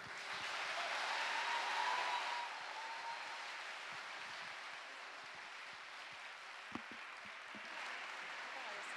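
Audience applause fills a hall after a conference presentation, a steady broad wash of clapping that is loudest early on and then settles to a softer, sustained level, with a brief sharp knock near the end.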